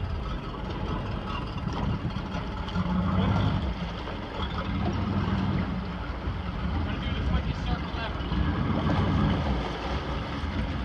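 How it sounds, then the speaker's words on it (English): A 1983 Bertram 28 boat idles with both motors running, a steady low engine rumble mixed with wind and water noise, while people talk over it. "Both motors running, buddy."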